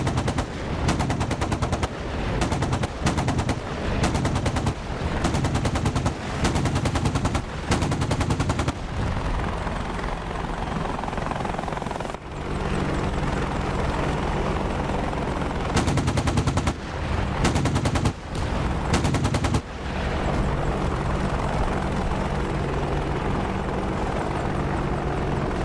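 Helicopter rotor drone runs throughout a DCS flight simulator game, broken by long rapid bursts of loud cannon fire that start and stop repeatedly.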